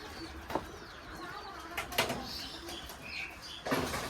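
Soft coos of Giribaj pigeons sound against a noisy background, broken by a few sharp knocks and flutters, moderately close.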